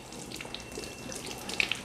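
Tap water runs steadily into a sink while a carrot is rinsed under it before sanitizing. The flow is soft and close, with a few small splashes and drips near the end and no voices.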